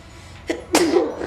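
One loud, close sneeze with a short sharp intake followed by an explosive burst, heard alone in a quiet room.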